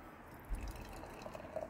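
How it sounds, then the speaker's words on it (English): Azvex Byzantine Generals Problem IPA being poured into a Teku glass, a soft, steady trickle of liquid with faint splashing, close by and quiet. "This is pouring a lovely,"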